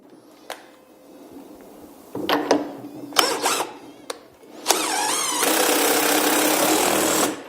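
Nut tightened onto a threaded shaft during an RB26 engine swap into a 300ZX: scattered metallic clicks and ratcheting bursts, then a long loud continuous whirring grind near the end, with no speech.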